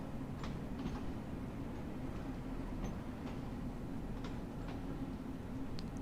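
A London Underground Bakerloo line train in the game Train Sim World 2 rumbles steadily at low pitch, with faint rail clicks and squeaks over the constant running noise and no talk.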